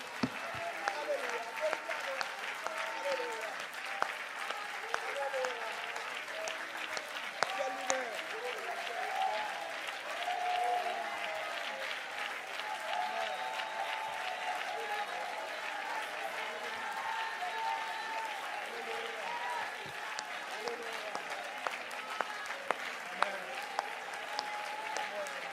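Congregation applauding at a church service, a steady wash of many hands clapping throughout with scattered shouts and voices mixed in.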